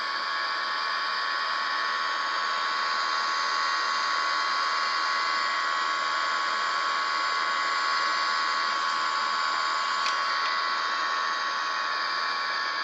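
Steady, loud jet engine roar with added thrust in the X-Plane 11 flight simulator on an airliner approach, a constant broadband whine running unbroken with no talk.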